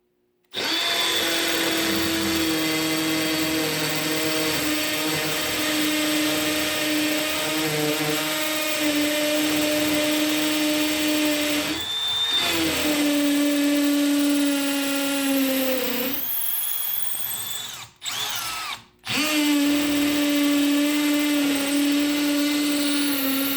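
A Milwaukee M12 Gen 2 FUEL 12-volt hammer drill with a 1/4-inch bit bores into a 4-inch concrete block, a loud, steady, close whine with rattling hammer action that dips and strains before cutting out briefly near the end.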